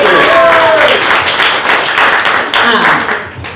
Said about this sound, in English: Let's give another round of applause to Christina Chapter.